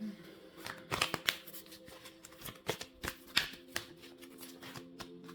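A card is pulled from an oracle deck of Power of Surrender cards, giving soft, close papery slides, shuffles and a few crisp snaps in an irregular cluster against a quiet room with faint background hum.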